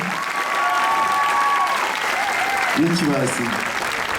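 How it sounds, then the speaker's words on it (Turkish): A crowd at a dance festival stage show applauds continuously while a host speaks over the clapping, with a brief tonal sound partway through. "Kocaman bir kez daha bir alkış istiyorum"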